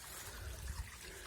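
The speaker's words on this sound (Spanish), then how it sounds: "Brota agua de ahí" Water trickles faintly from a small mountain spring seeping out of rock in a valley, a soft close dribble with low gurgles and no talk.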